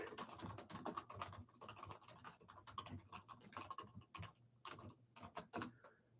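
Typing on a computer keyboard, heard as a close, irregular run of crisp key clicks and taps with brief pauses between bursts.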